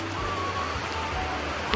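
A steady wash of rain falling on surfaces, even and continuous, with a brief clatter near the end.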